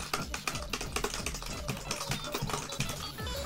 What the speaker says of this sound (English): You're probably hearing so much keyboard mashing.